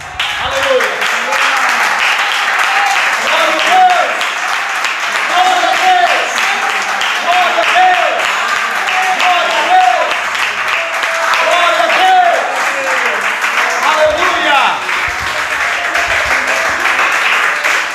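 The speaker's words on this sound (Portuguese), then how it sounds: "eu quero convidar a igreja para a gente dar uma salva de palmas para o Senhor" A church congregation applauds during a worship service, sustained clapping mixed with voices and cheering, with speech-like sounds running through the ovation.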